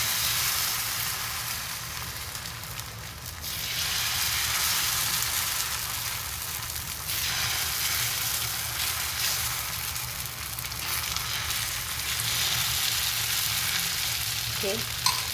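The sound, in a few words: fasting dosa batter sizzling on hot pan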